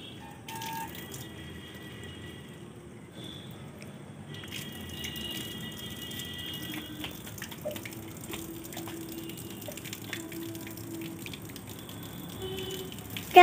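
Water pours from a vessel onto a plant, a soft, steady trickle and splash that gradually grows a little louder, heard alone at moderate distance.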